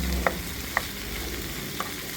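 Potatoes and corned beef being stirred in a pan, a few sparse utensil clinks against the pan over a steady low sizzle, close and quiet, no voices.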